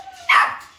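A Pomeranian puppy in a kennel gives one short, sharp, high bark, fairly close, with a brief fading tail and no talk.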